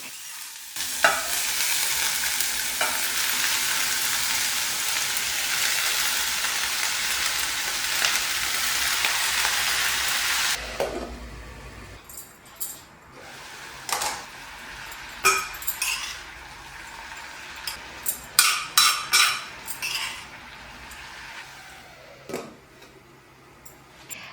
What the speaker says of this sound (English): I set them to soften, covering up with a lid and stirring it occasionally every now and then.